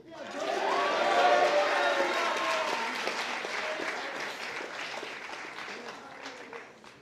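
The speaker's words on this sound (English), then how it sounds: "Let's have a nice round of applause" Sustained applause from a large audience at a high school fall athletic awards ceremony, loud at first and gradually tapering off, with faint crowd murmur and a few cheers mixed in.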